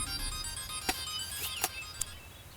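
Phone ringtone plays as a thin electronic melody with a few brief sharp clicks, fairly faint over a low background hum, and no talking.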